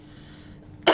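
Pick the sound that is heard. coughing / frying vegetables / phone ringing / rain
coughing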